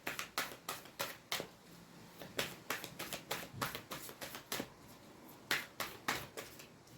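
Tarot cards being handled, shuffled and laid down over the Moon card, giving a run of soft, quick taps and slaps that come close and fairly quiet, alone with no talking.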